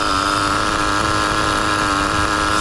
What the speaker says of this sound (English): This thing is still idling.